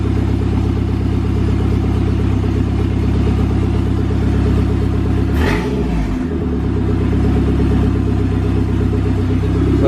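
Dodge Caravan with an SRT4 engine swap runs with a loud, steady low engine rumble close by, with a brief surge in the middle as the clutch is let out, and no talking.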